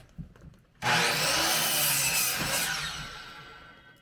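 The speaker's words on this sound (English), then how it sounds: "the first thing I'm going to do is cut 2 of these to length" Handsaw cutting sawmill lumber boards to length in a workshop, a single continuous loud rasping cut starting abruptly after a few soft knocks, close and gradually tapering off.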